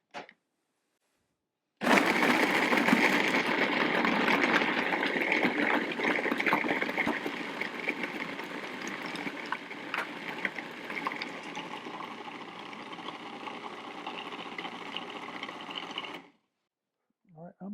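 A blender runs steadily for about fourteen seconds, churning pineapple sorbet with a loud, dense whirring grind, then cuts off into silence.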